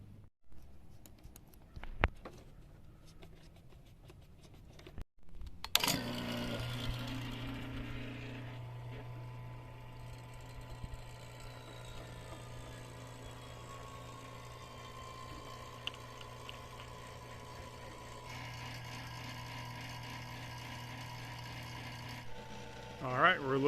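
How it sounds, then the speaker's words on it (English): A vacuum pump runs steadily on a Chevy Colorado air-conditioning system as it is evacuated, a constant close mechanical hum and whir that starts abruptly after a few quiet seconds and continues without letup. "I'm going to throw it on an AC vac and leave it on there for about 30 minutes"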